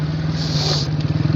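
A motorcycle rides along a road near Taxila with a phone camera clipped to the bike, its engine a steady loud drone with wind rush, the throttle pulsing toward the end.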